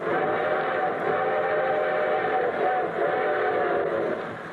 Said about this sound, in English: And here comes our star-studded show train.